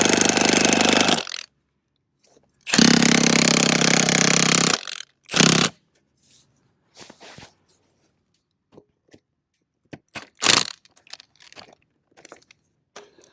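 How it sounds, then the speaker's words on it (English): A power drill driving a screw-type earth anchor into the ground gives two long, loud, grinding whirs, a short third burst, then scattered faint scrapes and one brief louder bite near the end. "once I get it drilled down into the ground here"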